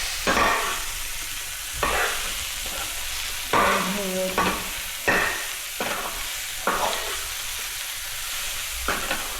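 Large chillies frying in a pan for a chilli bhaji, with repeated bursts of stirring and scraping over a steady sizzle, close up and without talk.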